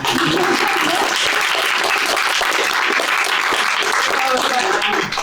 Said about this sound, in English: So big applause to Kai.